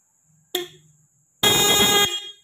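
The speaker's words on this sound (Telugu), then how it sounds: "సో పాజిటివ్ ఇచ્చినప్పుడు హార్న్ పలుకుతుంది" Horn on a Renault Triber with a wiring fault sounding close and loud, first a short sharp toot, then a pause before a sustained blast lasting over half a second.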